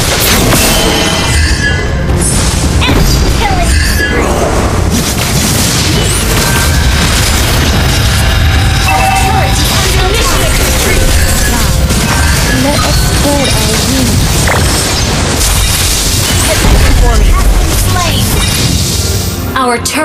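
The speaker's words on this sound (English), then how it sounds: "Our turret has been destroyed." Turret destroyed in Mobile Legends, a dense burst of booming, crashing explosion effects layered with battle sounds and an in-game announcer voice, loud and continuous throughout.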